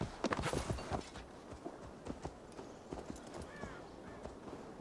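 Horse hooves clip-clop steadily in Assassin's Creed Valhalla, a quick, even rhythm of fairly quiet hoofbeats on the ground with no talk over them.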